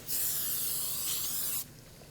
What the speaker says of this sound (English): I'm going for a little bit of spray here.